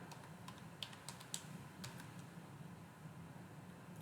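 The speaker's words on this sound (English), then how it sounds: "I'm just going to type in the title of the page." Quiet tapping on a computer keyboard, a handful of irregular light keystrokes in a short burst, faint over low background hum.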